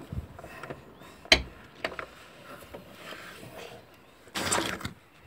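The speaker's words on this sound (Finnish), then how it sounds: "kun mä pistän tän traktorin oven nopee" Tractor cab door handled nearby, with a sharp metallic clunk, a few lighter knocks, then a longer rattling slam as it shuts, over quiet outdoor background.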